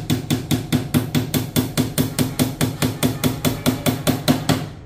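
Hammer blows strike steadily during assembly of a wooden two-door shoe cabinet, about twenty loud, close, evenly spaced knocks in a brisk regular rhythm with no talking.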